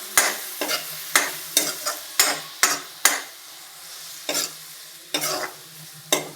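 A spoon stirs turmeric into a frying pan while cooking aloo paratha filling, giving about a dozen close scraping strokes in an uneven rhythm over a continuous sizzle, with no voices.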